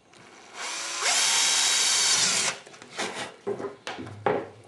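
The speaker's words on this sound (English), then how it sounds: "I drill a pilot hole first so it doesn't tear out." A power drill boring a pilot hole into a swim fin foot pocket, a loud whirring burst of about a second and a half, followed by brief rubbing and handling noises close by.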